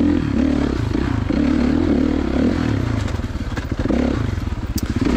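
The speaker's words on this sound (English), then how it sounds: "The KX450 may not turn, but she sure does want to pull your arms off when you twist the throttle." A 2016 Kawasaki KX450 dirt bike engine roars loud and close under throttle on an OHV turn track, with a steady harsh drone that breaks into pulsing revs and rattling as the rider twists the grip.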